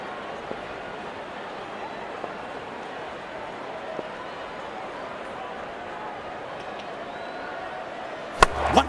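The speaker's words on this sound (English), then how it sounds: "Wonderful sound of the bat" Cricket bat smacks the ball for a six in the RC24 video game, a sudden sharp crack near the end after a long stretch of steady crowd noise.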